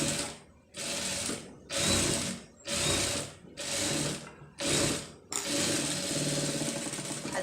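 Sewing machine stitching an embroidered blouse, running in six bursts of steady mechanical whirring separated by brief pauses, then a longer continuous run at the end; close and loud with no talking.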